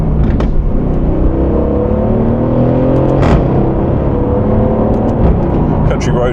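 An Aston Martin driving along a rough road, its engine droning steadily throughout with rising and shifting harmonic tones as it accelerates through the gears, loud and close with no pauses.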